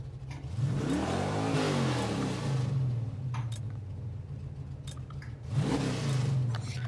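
A Dodge Charger R/T in Gran Turismo 7 revs its engine in two separate rising-and-falling bursts, a throaty mid-range roar that sweeps up in pitch and settles, with a quieter idle between.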